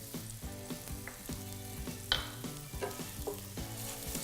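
Minced garlic and shallot fry in olive oil with a pinch of salt and red pepper flakes, making a soft, even sizzle up close, with a few small pops over a low background hum.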